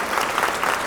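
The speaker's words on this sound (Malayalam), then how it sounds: "ഇനി ഈ സിനിമയിലെ നായകൻ യുവതരംഗം ആഘോഷ് മേനോനെ നിറഞ്ഞ കയ്യടികളോടെ സ്വാഗതം" Dense, continuous clapping from an audience welcoming a film's hero on stage, a brief burst of many hands at moderate loudness.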